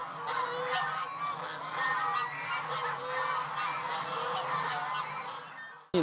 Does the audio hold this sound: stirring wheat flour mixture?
no